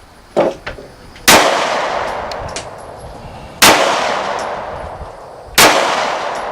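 Three sharp, loud shots from a Taurus Millennium G2 9mm pistol fired at a target ten yards away, spaced a couple of seconds apart, each with a ringing echoing tail.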